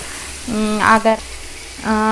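Onions fry in hot oil for mutton biryani, a steady sizzling hiss running beneath a voice speaking nearby.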